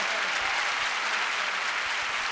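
Live concert crowd applauding as a guest musician is invited up, a continuous, even roar of clapping from many hands, fairly distant and steady.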